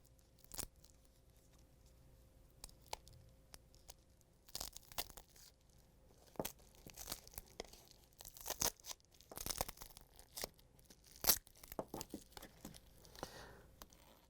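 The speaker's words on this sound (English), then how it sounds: "we're going to use the flathead screwdriver to carefully get the heater off" A flathead screwdriver pries a heater off a Samsung icemaker fill tube, making scattered close, quiet plastic cracks, crunches and scraping clicks in irregular bursts.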